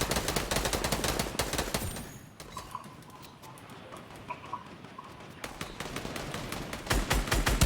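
Rapid bursts of gunfire in a late-game Fortnite match, loud and dense through the opening seconds, easing into quieter scattered shots in the middle, then returning as heavy close firing at the end.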